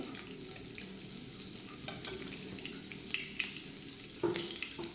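Butter and oil sizzle in a pan as a base for a vegetable makhan wala gravy, a steady close frying hiss with occasional stirring scrapes and small crackles, no talking.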